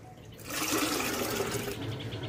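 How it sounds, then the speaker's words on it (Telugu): Water being added from a tap into a bottle of homemade buttermilk and mustard cake plant tonic, a steady close rushing pour that swells after a brief start and runs on alone. "మళ్ళీ వాటర్ యాడ్ చేస్తున్నా చూడండి"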